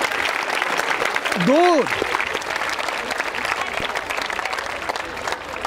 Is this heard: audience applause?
yes